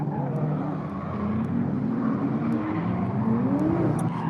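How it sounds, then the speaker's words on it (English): A Mazda MX-5 lapping a drift event track gives a steady, fairly distant engine drone whose pitch climbs and dips as it revs through the laps, with no voices. "to see the MX-5 doing a few laps, get his eye in"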